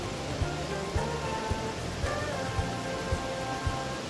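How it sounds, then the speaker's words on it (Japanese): Heavy rain falls steadily through the conifer forest of Yakushima at about 1000 metres, a dense continuous hiss with faint rhythmic thumps underneath and no voices. "大雨の洗礼を受けました。"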